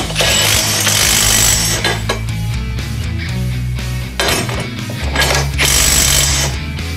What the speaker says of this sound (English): I'm gonna tighten this bolt down